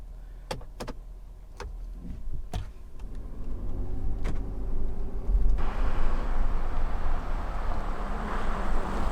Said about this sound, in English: this is a big, comfortable, and kind of loud truck to drive with that diesel engine under the hood